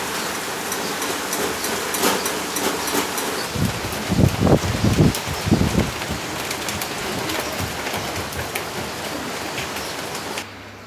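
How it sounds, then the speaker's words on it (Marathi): Monsoon rain falls steadily outside while onion bhaji fry nearby. A loud, dense patter of drops runs throughout, with a brief burst of heavier splashing and crackle midway before it stops abruptly at the end. "आता मी भजी करताना नुकताच पाऊसही पडतोय."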